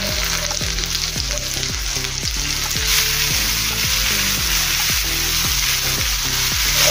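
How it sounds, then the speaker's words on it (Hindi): Tomatoes hit a hot pan of frying ginger and set off a loud, steady sizzle that stays constant throughout. Stirring scrapes sound underneath, and a rhythmic thudding chop runs beneath the frying. "ये देखिए, हमने थोड़ा सा भून लिया है अदरक को। और इसमें अभी हम टमाटर डालेंगे।"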